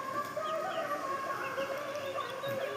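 Country chickens, a mother hen with her chicks, cluck softly and continuously in a farmyard at evening feeding time, with faint peeping calls scattered through the low background.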